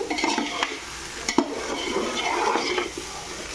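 Yakhni pulao frying in oil in a saucepan, a steady close sizzle broken by the scrape and clink of stirring against the pan.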